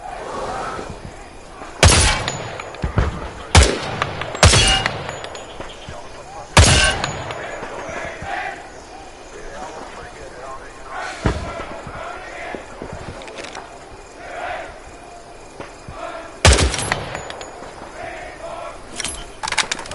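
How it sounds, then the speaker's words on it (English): Rifle shots fired at targets in the Vietnam War shooter Hell Let Loose, several sharp cracks at irregular intervals over jungle ambience and faint background battle noise. "Aim down the sights to improve accuracy. Shoot the targets ahead, aiming for the helmet to guarantee an instant kill"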